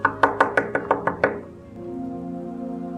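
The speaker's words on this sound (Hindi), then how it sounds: "कौन जालिम होगा जो इतनी सुबह सुबह हमारे कमरे का दरवाजा नॉक करेगा?" A room door is knocked on seven times in a quick, even series, close and sharp, then the knocking stops and a low steady tone continues in the background.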